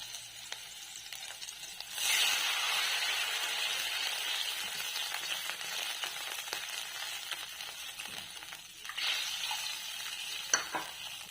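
Water hits sautéed pineapple in a pan for sheera and sets off a loud sizzling hiss that holds steady. A second surge of frying noise follows near the end, with no talking.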